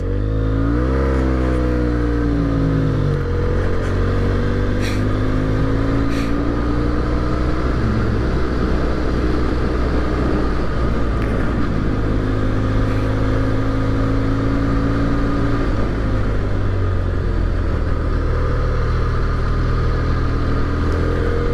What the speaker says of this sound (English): This car's over here flicking up dirt.